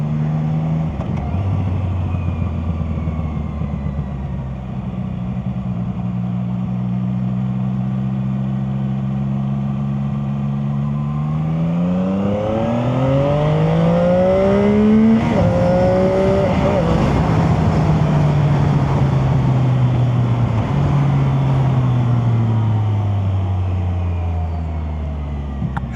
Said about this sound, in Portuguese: Tá aí pra vocês, CF Motos 675, a esportiva da CF Motos